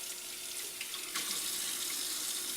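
A tap runs steadily into a sink as hands are wetted under the stream, a continuous close splashing hiss that thickens slightly partway through.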